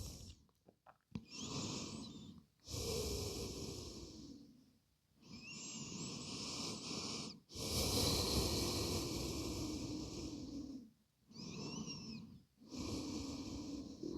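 Slow, deep breaths taken while resting in yoga child's pose, each long breath rising and falling steadily, close and soft, with short quiet gaps between them and no talking.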